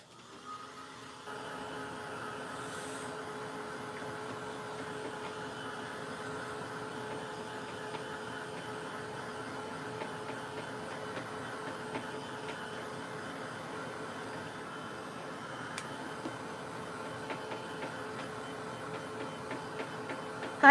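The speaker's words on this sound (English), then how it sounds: "let's go ahead and dry this with my tool to dry" A handheld heat tool blows steadily to dry a colorful craft background, a constant whirring hum close by that holds level throughout.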